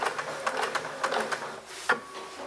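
A sewing machine stitching a pillowcase seam runs in short, close bursts of rapid mechanical clatter, a few stitches at a time with brief pauses between them, then a single sharper clack before a quieter stretch.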